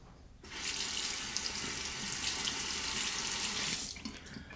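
Tap water runs steadily into a sink as a Parker Director Japanese-style shavette razor is rinsed, a close, loud continuous rush that starts abruptly and cuts off near the end.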